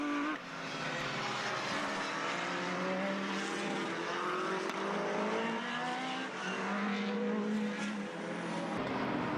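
Formula race cars, a Lola close behind a Jade, run a Formula BOSS Ireland race. Their engines make a continuous, fairly distant roar that rises and falls as they drive the circuit, with no speech.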